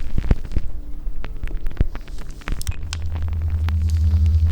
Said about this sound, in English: So we'll have vacuum suction.